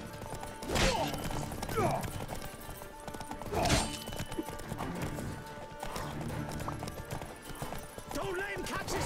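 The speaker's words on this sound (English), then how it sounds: "Horse combat's kind of difficult in this game." Horse hooves clatter in a rhythmic gallop during mounted combat in the video game The Witcher 3, with a couple of loud neighs or impacts standing out above the steady drumming.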